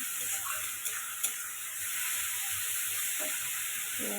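Small shrimp fry in a pan with a soft, steady sizzle and hiss, fairly quiet, with a few faint clicks of stirring.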